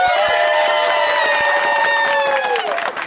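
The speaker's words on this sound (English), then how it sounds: "Give yourselves a big round of applause." Bus workers at a transit depot erupt in a loud, sustained burst of cheering, whooping and applause, voices filling the space close by and holding steady for a few seconds before tapering slightly at the end.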